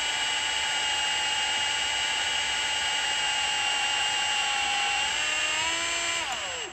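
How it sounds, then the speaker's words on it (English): Power drill with a 1/8 inch bit boring out old rod debris on an antique John Deere 112 garden tractor part: a loud, steady, high whine held close by, sliding down in pitch as it winds down at the end. "So now I've switched to the 1/8 inch drill bit, and I'm going to go in there"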